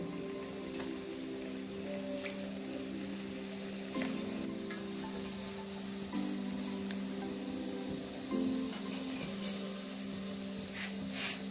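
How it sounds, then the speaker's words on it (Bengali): Sweet potato sweets dropped one by one into hot oil give a steady, dense crackling sizzle, like rain, that keeps going throughout with a few louder pops and no talking. "গরম তেলের মধ্যে আমি এক একটা করে রাঙা আলুর মিষ্টি ছেড়ে দেব।"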